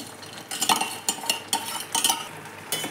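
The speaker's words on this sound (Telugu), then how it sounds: "ఇప్పుడు ఇందులో మనం వేయించి పెట్టుకున్నాం కదా అటుకులు వేసుకునేస్తాము" Fried flattened rice (poha) tipped into a pot and stirred, making a rhythmic run of scraping, rustling strokes with light clinks of a spoon against the metal, close and fairly loud.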